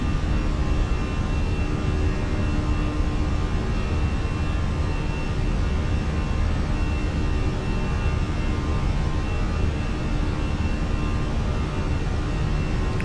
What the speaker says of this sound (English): It genuinely sounds like you're on an airplane.